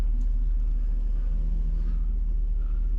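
Deep, rumbling exhaust drone from a Mercedes 500SL with its muffler deleted as the car pulls away, a steady low throb holding loud and close through the whole stretch with no voices.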